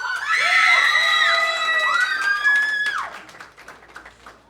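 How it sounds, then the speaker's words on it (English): A convention crowd at a costume contest screams and cheers loudly in a sustained, high-pitched burst that falls away after about three seconds into scattered voices. "we're going to do the scream for your favorite vote"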